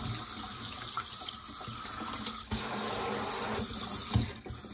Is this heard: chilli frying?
no